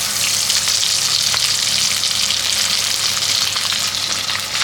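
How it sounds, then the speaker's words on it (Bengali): Small cut pieces of egg fry in hot oil left over from frying paneer, giving a loud continuous sizzle and spatter close by with no pauses and no talk. "ওই পনির তেলেই ডিমটা ভাজবো"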